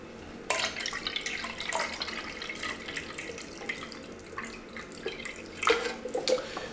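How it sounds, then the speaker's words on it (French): Photographic developer is poured into a collapsible accordion container, a close, quiet splashing stream with gurgles and a few sharp liquid bursts over several seconds. "on va aller verser le révélateur"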